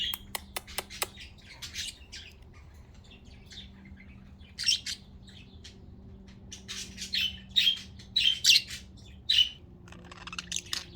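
A pet bird gives repeated sharp squawks and chirps, first a quick run of clicks and then louder, clustered calls. It is close and indoors, with a low steady hum beneath and no talking.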